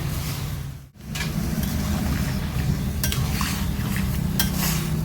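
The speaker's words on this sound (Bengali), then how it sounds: "সব কিছু নেড়ে চেড়ে দিচ্ছি।" Spoon stirring chopped bottle gourd with grated ginger, split green chilli and a splash of water in a kadai, a steady scraping and bubbling hiss with a brief pause and occasional metallic clinks.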